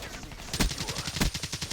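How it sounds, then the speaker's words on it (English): Blind-fire gunfire in the video game Black Ops 3: a fairly quiet, rapid run of repeated shots at an even rhythm, with a couple of stronger reports standing out in the mix. "Nice blind fire right there."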